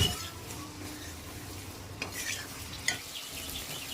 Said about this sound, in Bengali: পটল আলুটা কষে নিতে হবে